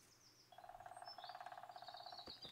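A woodpecker drums in a rapid, even burst of taps in the forest of the video game Kingdom Come: Deliverance, with faint bird chirps around it in quiet surroundings.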